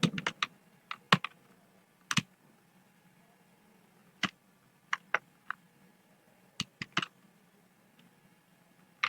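Budget category names typed on a computer keyboard: sparse, crisp key clicks in short irregular bursts with pauses between, close and fairly quiet over a low steady room hum, no talking.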